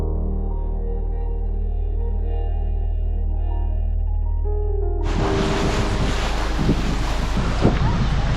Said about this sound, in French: T'as vu le vent qu'on se tape aujourd'hui?